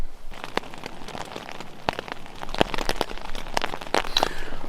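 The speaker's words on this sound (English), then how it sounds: "As you can see, it's raining." Rain falls on a tent at a northern wilderness camp, with many distinct drops and patters tapping irregularly over a soft steady hiss, close and fairly clear, with no talk.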